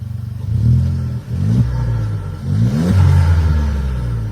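A modern, powerful car engine revs hard and accelerates in close range, rising in pitch in repeated surges with brief drops between them, loud and with no other sound.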